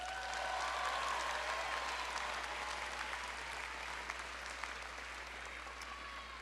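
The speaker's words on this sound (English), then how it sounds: "So can we give a class of 2024 a big round of applause?" Graduation ceremony crowd applauding the class of 2024, a sustained, even spread of many hands clapping in a large space, faint and distant, with a few sharper claps standing out.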